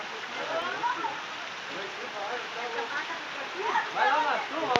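Steady rain falling at a home, a dense hiss of drops spattering on surfaces throughout, with people talking and calling out over it.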